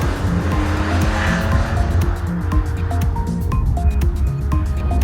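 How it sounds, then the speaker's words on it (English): A 1992 Mercedes-Benz SL driving on a sunny day, with a steady low engine and road rumble throughout and faint tonal chirps and squeaks layered above it. "So here we are in the SL, driving around on a lovely sunny day."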